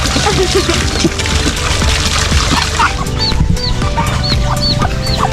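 Chickens cluck and chatter at feeding time on a farm, several birds close by in overlapping bursts, with a few higher calls and chirps near the end and scattered rustling.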